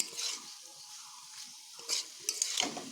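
Helencha greens being stir-fried in a pan, soft continuous sizzle broken by a few sharper scraping and clanking stirs near the end, close and fairly quiet.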